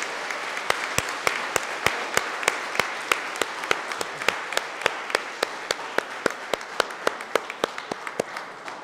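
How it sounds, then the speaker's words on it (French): A church congregation at a Mass claps for a couple married 51 years. Sparse, regular claps ring out clearly over a soft background, at an even rhythm across several seconds. "un autre applaudissement pour eux autres"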